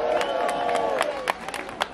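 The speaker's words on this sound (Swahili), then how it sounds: "Wapi makofi yao?" A crowd at a Kenyan gathering bursts into applause and cheering for Regina and Sir James, scattered claps and voices over a sustained murmur, with sharp individual claps standing out near the end.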